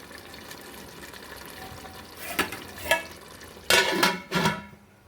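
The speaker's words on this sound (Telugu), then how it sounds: "చూడండి ఫ్రెండ్స్, మటన్ కుక్ అవుతుంది." Mutton for an Andhra-style green biryani cooks in a pot, a low simmering bed broken by a few close scraping stirs and clattering knocks toward the end, no talk.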